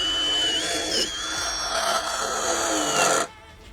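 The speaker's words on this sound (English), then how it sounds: "we're going to move the drill round now towards this mark" A power drill whines steadily as it bores into material, its pitch wavering slightly, then the motor cuts off abruptly near the end.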